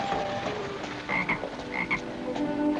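A toad croaking in a 1950s Western television episode, a raspy, throaty call that repeats a few times over a dense, noisy background, fairly loud, with no talking.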